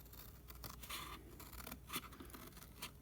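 Scissors snip through a scored cardboard flap while building a tiered storage unit, giving a quiet series of short cutting and scraping crunches at an uneven pace.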